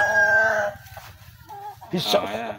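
A rooster crows loudly nearby, a long drawn-out call followed by another crow, with people talking around it.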